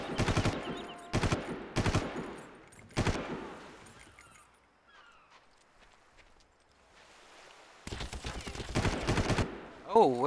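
Gunfire in the Far Cry shooter during a sniping fight: several loud sharp shots in quick succession, a quiet stretch with faint rustling, then more bursts of rapid fire near the end.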